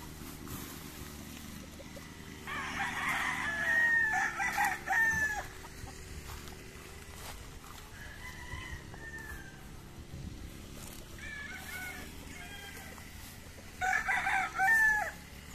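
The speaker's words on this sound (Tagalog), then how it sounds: "Dami silang manok dito" Several gamefowl roosters on a gamefarm in Davao City crow in turn, some near and loud, others farther off, with short gaps between the calls.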